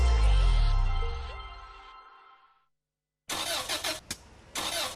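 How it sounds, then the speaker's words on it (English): A car engine roars, then winds down into silence before rough, rattling engine noise bursts back in unevenly. "That's the sound of your car about to cost you a lot of money."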